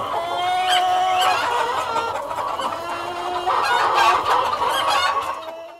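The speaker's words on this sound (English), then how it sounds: "When you walk into a typical meat factory, it sounds like this." Crowded chickens inside a typical meat factory, with dense, overlapping clucking and squawking that stays loud and close throughout, with no voices.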